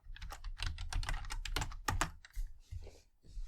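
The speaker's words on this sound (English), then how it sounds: "Sorry for my noisy keyboard" Rapid clattering keystrokes on a computer keyboard, close and loud, in quick uneven bursts with brief pauses.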